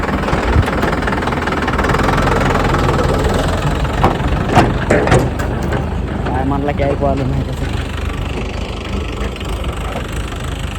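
A tractor engine idles with a steady low rumble close by at a brick-making site while people talk over it.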